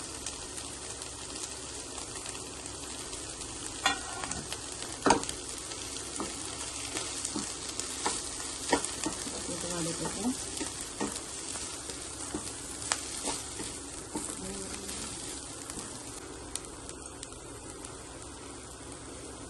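Grated coconut and moringa leaves fry in a pan with a pinch of turmeric, giving a steady close sizzle broken by scraping stirs and a few sharper clicks throughout.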